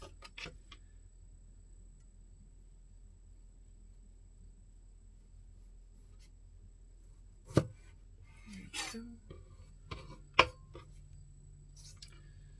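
A knife cuts down the sides of an aloe vera leaf in a few sharp, isolated snaps and slices against a quiet background, separated by long pauses.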